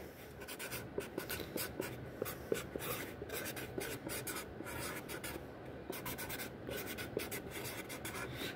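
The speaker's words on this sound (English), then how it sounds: "Write your name." Pen writing a name on a paper bowl during a classroom air-dry clay project, with steady scratchy strokes and short pauses, close and moderately loud, no talking.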